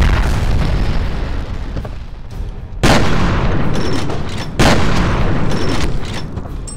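Two loud grenade blasts in the video game F.E.A.R., each a sharp booming explosion followed by a long rumbling decay, a couple of seconds apart over heavy background noise.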